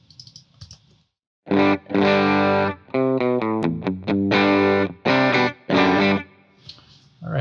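Electric guitar with a distorted tone through a Line 6 HX Stomp: loud, saturated chords and short riffs in bursts separated by brief gaps, ending with a few quick muted notes.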